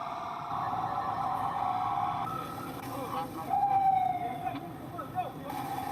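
An ambulance siren wails through city traffic, a steady tone that shifts into a rising and falling sweep, fairly close and continuous over road noise.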